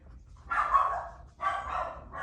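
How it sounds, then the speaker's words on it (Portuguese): A dog barks twice in a row, each bark drawn out and nasal, loud and close with nobody talking. "E tem meu cachorro, tá latindo."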